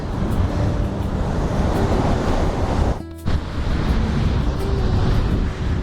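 Ocean surf pounds the shore near the dunes of Fuerteventura, Spain, with a loud, continuous wash of breaking waves and heavy wind buffeting the microphone, cut by a brief dropout near the middle.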